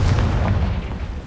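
A Confringo fire spell blasting in Hogwarts Legacy, a loud close burst of booming explosion that rumbles and fades over about a second, heard alone.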